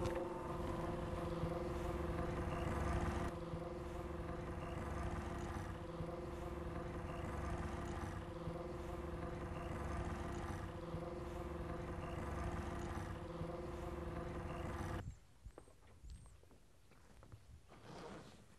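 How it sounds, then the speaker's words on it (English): A sailboat's mainsail is hoisted on an electric winch, giving a steady mechanical whine and hum with tonal lines running continuously for about fifteen seconds before it cuts out, leaving quieter wind and water noise. "we'll start hitting the electric winch and powering the sail up"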